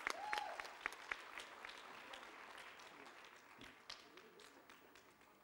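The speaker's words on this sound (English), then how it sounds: "Please give her a warm round of applause." A faint audience at a conference plenary session applauds from a distance, a steady patter of clapping that slowly tapers off.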